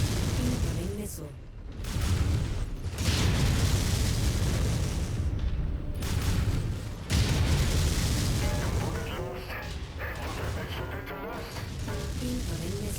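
Missile explosions from the video game MechWarrior 5: Mercenaries, a dense run of loud, booming blasts and bursts that rumble continuously for about thirteen seconds, with a voice talking over the barrage.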